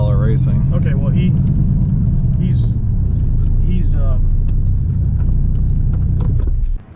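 A supercar's engine roars loud and close during a ride, a heavy continuous rumble that drops away at the very end, with people talking over it.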